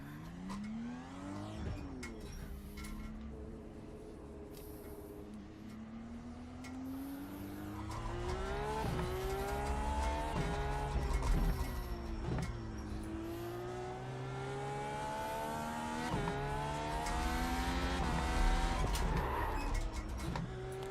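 An FF1600 open-wheel race car engine at Winton Motor Raceway revs and shifts through gears with rising and falling whines, tires squealing at moments, loud and sustained.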